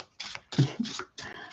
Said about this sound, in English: One more shuffle, sorry.